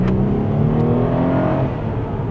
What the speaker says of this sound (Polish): Dobra, wciskamy trochę gazu